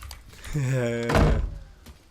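A door in a house is pushed shut with one dull, fairly loud thunk at mid-clip. A short, tonal vocal-like sound comes just before it, and quieter room noise surrounds it.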